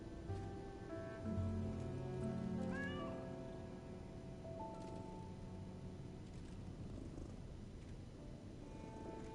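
A cat in the video game Lies of P meows in a few rising, tonal calls and purrs softly, over a steady bed of in-game ambience and music, with no talking.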